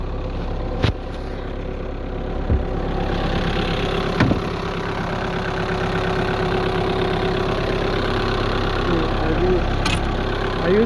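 A Skoda Octavia 1.6 TDI diesel engine idles just after an extreme cold start at -21°C, a steady loud clattering drone that runs throughout, with a few sharp clicks and knocks standing out over it.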